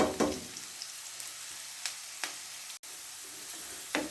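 Onions fry in a small amount of oil in a pan, a soft steady sizzle with a few sharper crackles and stirring knocks scattered through, close by and fairly quiet.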